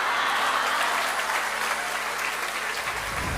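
Dense, sustained applause from an audience in the Prajapati Hall in London, steady and loud throughout with no breaks, fading slightly at the very end.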